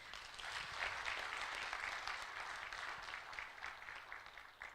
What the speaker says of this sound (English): can we give a hearty clap to all the presenters